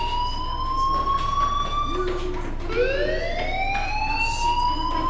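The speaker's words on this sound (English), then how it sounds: "Hey, do you hear that fire alarm?" A school fire alarm rings in the Life is Strange video game, a loud continuous siren-like tone that sweeps in pitch, dipping and rising again midway, steady throughout with no talk.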